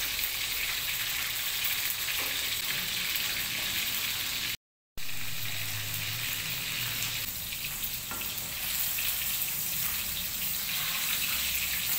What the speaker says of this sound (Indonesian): Ini air untuk merebus gambasnya sudah mendidih ya.